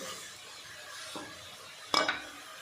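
Onions and spice mix fry in oil for a shimla mirch paneer dish, giving a soft, steady sizzle with a brief stir partway through and a sharper scrape or clink near the end, with no talking.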